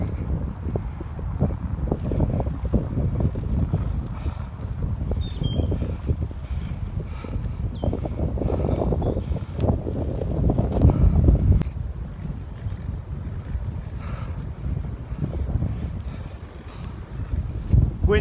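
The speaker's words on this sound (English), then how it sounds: "Wind's pretty strong." Strong wind gusts buffet the microphone on an overnight bikepacking trip. The roar is loud and continuous, swelling and easing in surges, with a faint voice briefly underneath.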